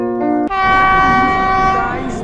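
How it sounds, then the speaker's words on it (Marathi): A train arrives at a station, sounding a loud, sustained horn that starts abruptly after a brief rumble and holds until the end, close and dominant. "ट्रेन आ चुकी है."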